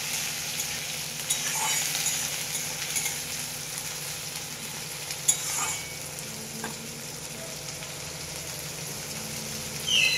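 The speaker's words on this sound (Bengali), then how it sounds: "তেল গরম হয়ে গেছে, এবারে আমি চিংড়ি মাছগুলো ভেজে দেবো।" Shrimp frying lightly in hot oil, a steady, close, continuous sizzle with a few brief clicks from the pan and no voices.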